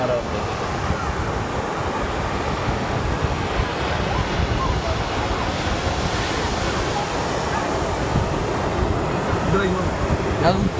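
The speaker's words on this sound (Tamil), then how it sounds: "நான் அலை வரணும்டா." Sea surf at Marina beach makes a loud, continuous roar of breaking waves, heavily buffeted by wind on the microphone, with faint voices mixed in.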